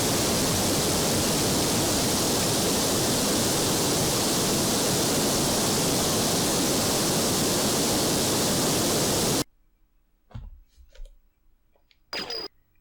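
A Sega Saturn Cyber Speedway racing game glitches into a loud, steady wall of hiss-like static that runs for about nine seconds, then cuts out abruptly, leaving sparse clicks and short bursts of game sound.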